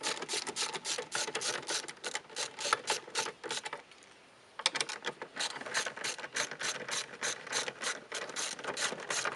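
A ratchet tool clicks rapidly as it backs out screws holding a Subaru XV tail light, giving dense continuous ratcheting with one short pause partway through, loud and close with no talking.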